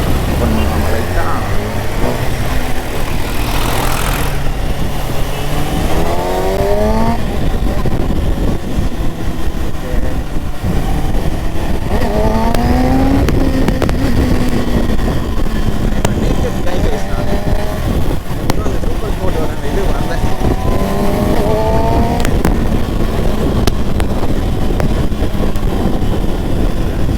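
A Kawasaki ZX-6R superbike engine runs loud and close while riding, rising and falling through repeated revving sweeps under heavy wind buffeting.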